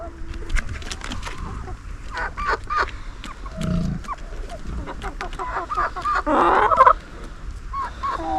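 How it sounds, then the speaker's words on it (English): Chickens clucking and squawking close by at feeding time in a busy, continuous chatter, with scattered sharper calls and some shuffling noise. "The chickens seem to like it. They're pecking the back of my legs because it's feed time."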